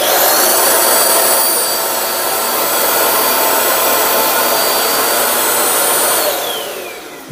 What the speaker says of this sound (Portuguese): agora a gente vai ligar nosso aspirador no inversor